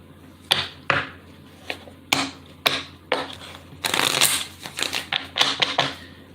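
A deck of tarot cards is shuffled in a quiet room, sharp riffling bursts at uneven intervals, then a longer, denser run of rapid flutters toward the end, all close and with no talking.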